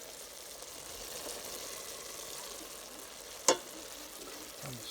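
Bacon-wrapped stuffed pork loin sizzles and crackles softly in a hot pan, a steady frying hiss with one sharp clink partway through.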